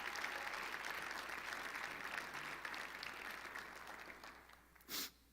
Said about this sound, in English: And so can we applaud the 40 people that have given their life to Jesus through baptism?